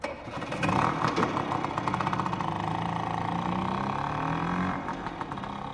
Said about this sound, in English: Why are those things so noisy? Bet they fiddled with the exhaust.